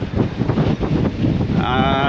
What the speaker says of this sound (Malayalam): ഏറ്റവും ഫ്രണ്ടിൽ നല്ല കാറ്റുണ്ട്